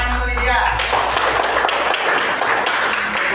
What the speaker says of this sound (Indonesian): mari dulu tepuk tangan untuk dia